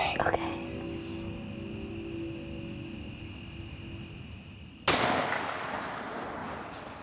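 A hunting rifle fires once at a deer, a sudden sharp blast partway through that leaves a lingering roar; before it, steady low outdoor background noise.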